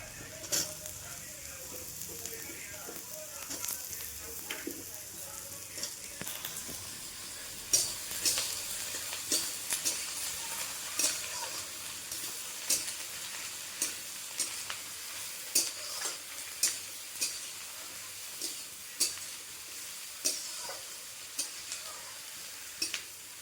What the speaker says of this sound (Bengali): আমার পেঁয়াজগুলো নরম হয়ে এসছে, এর মধ্যে আমি এবার ক্যাপসিকামগুলোকে দিয়ে দেব